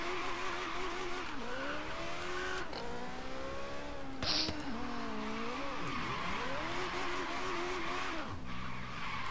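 A Caterham races in Forza Horizon 3, its engine revving up and down through gear changes with rising and falling whine, tires squealing at intervals, loud and continuous throughout.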